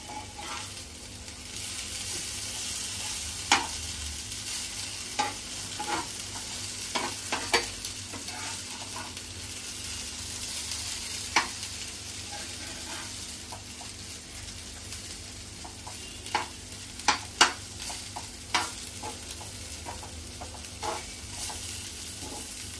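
Okra frying on a tawa for crispy bhendi gives a soft, steady sizzle, with a spatula scraping and tapping the pan now and then as it is stirred, with no talk.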